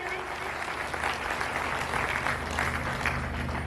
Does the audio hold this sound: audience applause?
yes